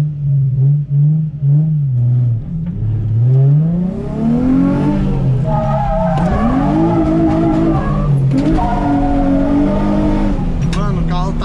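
A Nissan 350Z drifting, its engine revving up and down in rising and falling sweeps while tires squeal and skid, loud and close throughout.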